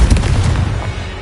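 A Confringo blasting spell explosion in Hogwarts Legacy, a loud deep boom with a rumbling decay over about a second.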